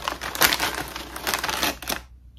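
Scissors snip open a crinkly plastic bag of puffy shrimp-flavored South Korean snacks, a close, loud burst of crackling and rustling lasting about two seconds before falling silent.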